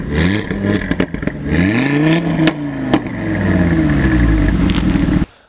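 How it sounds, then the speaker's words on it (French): Audi RS3 8Y with a particulate filter, engine revving loudly with rising and falling pitch and a few sharp exhaust pops and crackles on the overrun, close by, with no talk, ending abruptly. "Ça pétarade, mais ça pétarade pas comme les anciennes générations."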